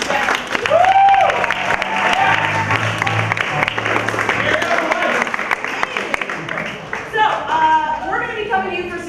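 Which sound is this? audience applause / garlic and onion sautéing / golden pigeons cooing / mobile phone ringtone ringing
audience applause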